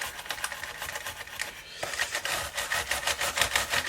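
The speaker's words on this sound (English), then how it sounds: "My brass brush to clean in there the screws and in there." A brass wire brush scrubs old screws clean, giving a close, steady raspy scratching in quick repeated strokes that grow louder and more rhythmic partway through.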